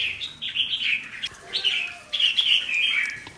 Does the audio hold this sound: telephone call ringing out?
no